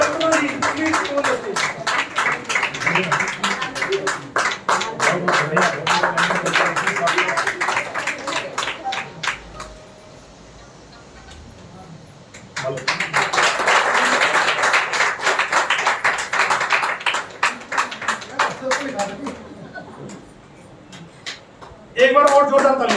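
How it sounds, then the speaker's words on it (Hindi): An audience at an International Women's Day function claps and applauds in two long loud bursts separated by a quieter pause, with cheering and voices mixed into the crowd noise. "और जोरदार तालियों से उनका स्वागत करेंगे"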